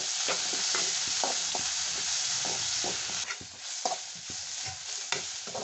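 Onions and tomatoes sauté in a pan for a capsicum stir-fry, a loud continuous sizzle with repeated stirring scrapes close by.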